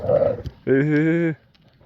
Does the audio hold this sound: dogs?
yes